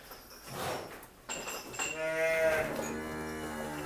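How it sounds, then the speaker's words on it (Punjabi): Jersey heifer at a village livestock sale in Tarn Taran, Punjab, gives a drawn-out moo with rising then falling pitch, close and loud over a noisy farmyard background with other animals nearby. "ਅਗਲੀ ਵੱਛੀ ਜਿਹੜੀ ਦੋਸਤੋ ਤੁਹਾਨੂੰ ਦਿਖਾਉਣੀ ਹੈ ਵੈੜ ਜਰਸੀ ਵੱਛੀ ਆ ਗਈ"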